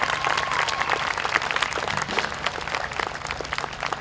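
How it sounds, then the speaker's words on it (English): Audience applause for a jazz combo at a summer school-district music festival, steady dense clapping filling the whole stretch with a faint sustained tone underneath. "How about another round of applause for the jazz combo as well?"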